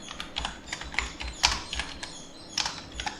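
Typing on a computer keyboard to write a welcome message in a file, a quick, uneven run of close, crisp key clicks heard alone.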